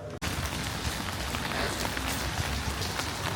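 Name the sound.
rain falling in Marseille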